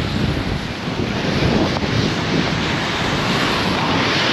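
Floodwater from an overflowing river rushes past in a loud, continuous roar, mixed with heavy wind buffeting the microphone, with no speech heard.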